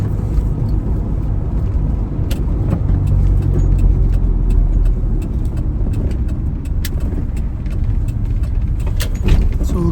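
A Denyo 140GSS engine welder, bought from a scrapyard and under repair, runs with a steady, loud, low engine rumble that continues evenly throughout, with faint clicks and rattles over it and no talk.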